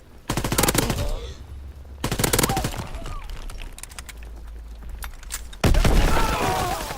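Call of Duty WW2 multiplayer automatic fire from an FG-42 or M1941, rapid loud bursts of shots in three separate strings with quieter in-game ambience between them.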